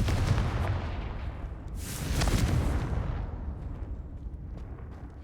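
A Confringo blasting spell explodes in Hogwarts Legacy: a deep, booming blast with a rumbling roar that swells again midway, then slowly decays into a lingering low rumble.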